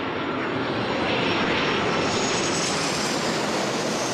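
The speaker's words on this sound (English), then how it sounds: "I think I could actually see the people on that plane. It was that close." Airplane flying low overhead on approach to an airport, its engine roar loud and close, swelling broadly and steadily without a break.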